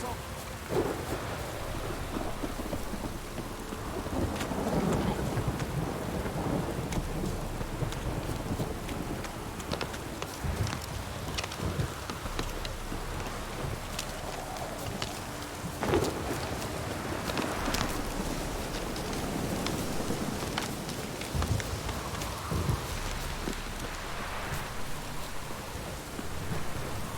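Steady heavy rain with rolling thunder in the video game The Witcher 3: Wild Hunt, a continuous downpour wash broken by several deep rumbles throughout.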